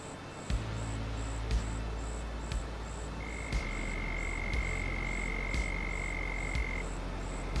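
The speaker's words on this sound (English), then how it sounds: "frog noises there, maybe" Frogs croak in a regular pulsing rhythm in Farming Simulator 25 on the Chipping Norton map. Steady repeating calls sit over a dense chorus of insects, with a long, thin tone partway through, and there is no talking.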